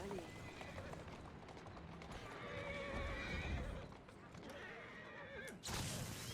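Horse in a video game, with galloping hooves and repeated neighs and whinnies over a continuous bed of game sound, while someone talks over it.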